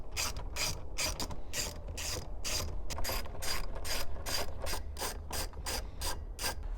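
A ratchet wrench on the 10mm bolts that hold a car radio gives quick, close clicking in a steady rhythm, with brief pauses between runs of strokes. No one speaks.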